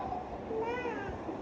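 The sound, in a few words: child imitating a cat's meow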